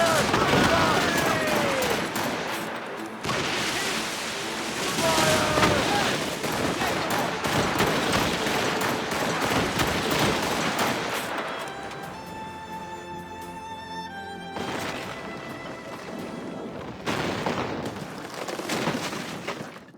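Rapid cannon and musket volleys roar in a naval battle in Assassin's Creed Rogue, dense overlapping gunfire with shouted commands on deck before a brief lull and a final burst.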